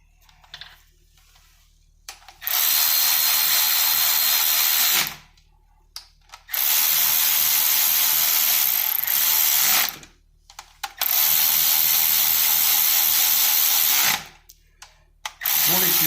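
A power tool runs bolts into the aluminum cylinder head of a 5.3 engine, three loud sustained whirring bursts of a few seconds each, separated by quiet gaps with faint handling clicks.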